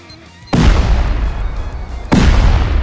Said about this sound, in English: blow up some walls now